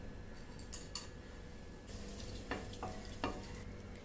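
Cinnamon, cloves, cardamom and stone flower sizzle in hot oil in a cooker for a South Indian vegetable kurma, a steady frying hiss broken by sharp crackles and the scrape of stirring.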